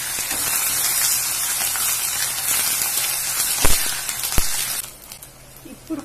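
Curry leaves drop into hot oil for a tempering for lentil pappu charu, giving a continuous crackling sizzle with a couple of sharp pops midway before the hiss fades quieter.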